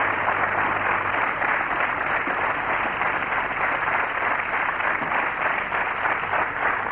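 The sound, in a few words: studio audience applause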